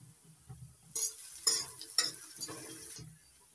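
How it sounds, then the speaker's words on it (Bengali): Onion, ginger and garlic frying in oil, with a quiet sizzle under a series of sharp scraping and clinking stirs from a utensil against the pan, about five strokes in quick succession. "পেঁয়াজ আদা রসুন ভেজে নিয়েছি।"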